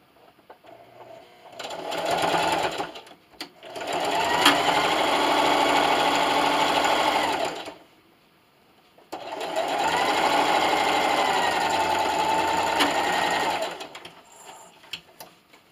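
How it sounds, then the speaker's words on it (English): A sewing machine stitches a pillowcase seam in two long steady bursts of rapid whirring, backstitching at start and end, separated by a brief pause, with a few soft clicks between. "See you at the sewing machine."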